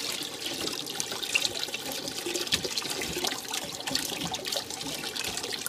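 Water runs and trickles steadily through sand being washed for crafts, a soft, continuous splashing flow that stays close and fairly quiet with no voices over it.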